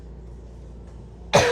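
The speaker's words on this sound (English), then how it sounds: "I always have to cough at least once." A single sharp cough bursts out at the end, loud and close, after a stretch of quiet room tone.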